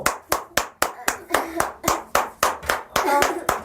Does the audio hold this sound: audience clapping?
yes